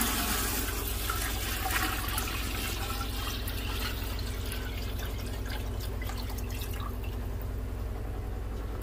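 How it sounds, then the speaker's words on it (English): Tap water is poured from a pot into a Berkey water filter, making a steady, close, rushing splash that continues without pause and thins out near the end, with no talking. "Normally we just fill a pot with some tap water, and my son is going to just pour it in there"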